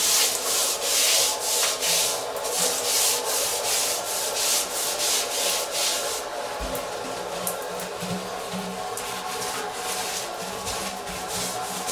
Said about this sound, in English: Get this handy scrubbing brush to get in the corners